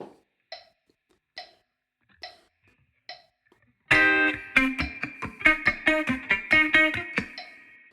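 Clean electric guitar plays one bar of a song: a few muted percussive ticks, then a bright run of quick rhythmic chord and single-note stabs, close and loud, with no voice.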